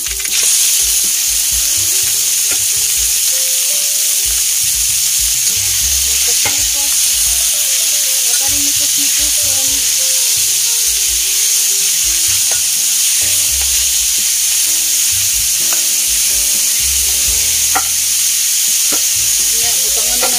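Cabbage and macaroni sizzle loudly in a hot pan while being stir-fried, with a constant hiss of frying and occasional scraping stirs, close up and without talk.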